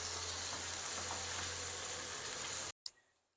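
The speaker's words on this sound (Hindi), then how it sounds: "कीमे को थोड़ा सा फ्राई करेंगे।" Minced beef keema fries in a pan with a dense, steady sizzle and crackle, then cuts off abruptly near the end, followed by a brief clatter and quiet.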